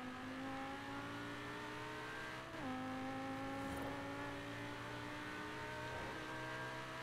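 A car engine in Forza Horizon 4 revs and accelerates through the gears, a steady loud drone with a brief dip at a shift, no talking.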